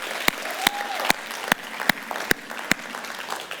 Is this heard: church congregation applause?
yes